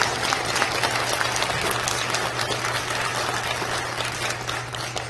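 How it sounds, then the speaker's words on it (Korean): Steady, dense applause from a congregation at a church gathering fills the whole stretch evenly, with a low hum running underneath. "다시 한번 박수 한번"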